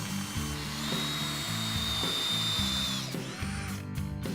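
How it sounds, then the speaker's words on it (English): A power drill bores pilot holes through two stacked pieces of shutter plywood, its motor whining steadily for about two seconds and then winding down, all over loud, rhythmic background music. "You can drill pilot holes through both pieces at the same time"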